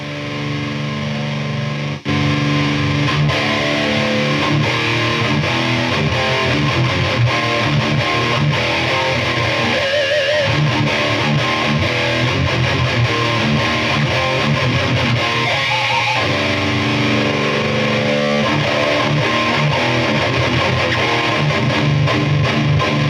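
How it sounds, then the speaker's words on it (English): Loud, heavily distorted electric guitar played through a cranked Traynor YBA-1 amp with a master volume mod, phase inverter distortion giving sustained gritty chords ringing continuously with a thick, saturated tone. "Phase inverter distortion?"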